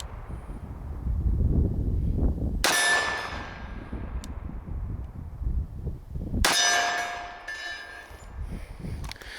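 Two sharp metallic clangs ring out as bullets from a SIG Sauer Spartan II Carry 1911 pistol strike a steel target outdoors, each impact followed by a fading ring over wind and ambient noise.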